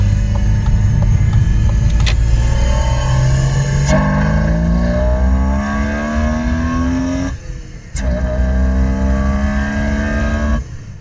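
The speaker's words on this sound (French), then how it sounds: "je m'étais essayé à quelques tests sur l'amplification du son de l'admission au travers du système audio de la voiture" A BMW E36's intake roar, amplified through the car's own audio system, rises as the engine revs up through gears, each climb cut by a brief shift, loud and close inside the cabin.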